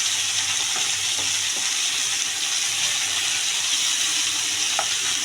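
Pointed gourd sautéing with chilli, coriander and cumin powders in a pan produces a loud, steady hissing sizzle, with a few soft stirring scrapes and taps over the continuous frying.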